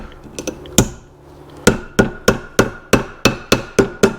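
A new retaining clip is hammered into a Corvair clutch: a few light taps, then a steady series of about nine sharp metallic hammer blows, close and evenly spaced.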